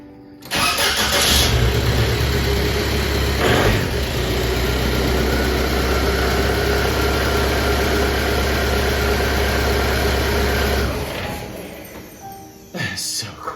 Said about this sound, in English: I just want to make sure the Jeep starts and runs real quick